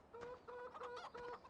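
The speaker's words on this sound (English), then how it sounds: "so you can see now that we have all these chickens here" Chickens clucking on a farm in the video game Farming Simulator 15, several soft rhythmic clucks in quick succession, faint and without talking.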